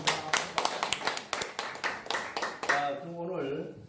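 Audience clapping at the close of a Korean unification forum lecture, a quick run of sharp hand claps for about three seconds that gives way to voices talking.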